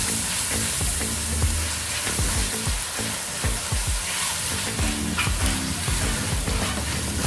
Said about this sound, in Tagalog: sasabay natin ito pag-saute ng chicken para medyo mag-brown siya ng konti